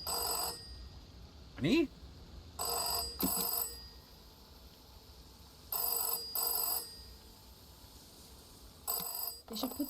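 An old-fashioned telephone bell rings in the video game SEASON: A letter to the future, sounding in repeated paired bursts with pauses between them, loud and clear, while a voice speaks briefly.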